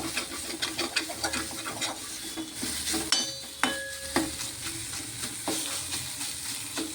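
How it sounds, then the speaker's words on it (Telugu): Onion paste frying in oil in a pan, a steady close sizzle broken by repeated scrapes and clinks of a spoon stirring against the metal. "ఇది ఆల్మోస్ట్ ఉల్లి ముద్ద వేగిపోయిందండి"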